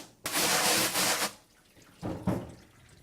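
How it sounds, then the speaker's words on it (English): Water rinses over a wet screen printing screen, a loud spraying rush for about a second, a short pause, then a second briefer burst, close by. "So I'm going to get the screen wet on both sides and then let it soak."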